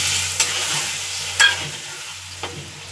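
Potatoes fry and sizzle steadily in a pan for an egg curry, with a soft hiss throughout and a few sharp scraping stirs at intervals, close and alone with no voices.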